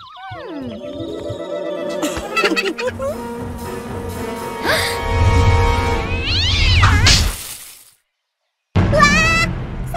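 A cartoon cat named Meong gives several squealing, wavering meows over busy music and sound effects. A brief silence comes near the end, then more noise follows.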